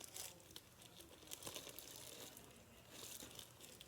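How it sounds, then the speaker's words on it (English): Plastic bag crinkling up close, soft rustling and crackling that comes and goes in small bursts, alone with no voices. "I take a plastic bag"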